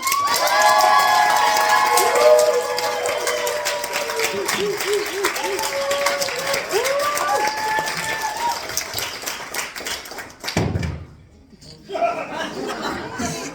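A comedy show audience applauds and cheers loudly for several seconds, with whoops and shouts over steady clapping, before the noise drops off abruptly and returns more faintly.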